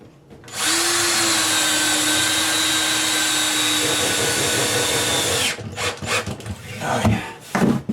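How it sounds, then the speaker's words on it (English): A power drill drives a screw into a wooden kitchen base cabinet in one loud, steady whirring run of about five seconds, close up, followed by quieter knocks and handling noises. "Alright, we're putting the last screw in this base cabinet."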